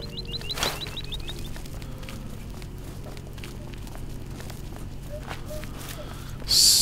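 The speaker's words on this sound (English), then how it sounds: "Nice bird sounds." Birds chirp in the video game Oblivion: quick repeated trills near the start, then sparse calls over a low ambient game background, with a louder burst of sound right at the end.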